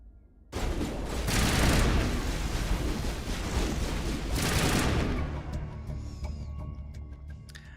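Sustained gunfire during a firefight in the video game Mass Effect Legendary, loud and dense from the first second onward, swelling in two heavy bursts before tapering into scattered shots and fading reverb.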